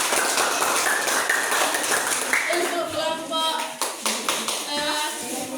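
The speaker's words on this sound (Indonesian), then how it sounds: "Beri tepuk tangan untuk kelompok" Students in a classroom clap for a group of classmates. A burst of hand clapping opens the clip, then it thins out as children's voices and chatter take over.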